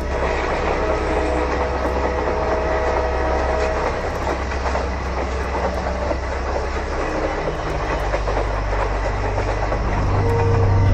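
A train rumbles and clatters along the rails late at night in a steady, dense roar that swells louder toward the end, with a faint tonal note emerging in the final moments.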